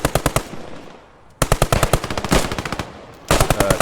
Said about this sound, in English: someone just sniped somebody